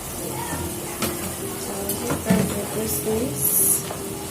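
Minced meat browning in a pan for bolognese sauce, a dense continuous sizzle with occasional stirring knocks, close and steady throughout.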